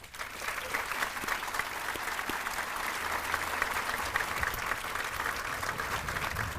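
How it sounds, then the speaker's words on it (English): A hall of fame ceremony audience applauds the course, a steady, even roar of many hands clapping that continues without a break, moderately loud and slightly distant. "Let's give the course another round of applause."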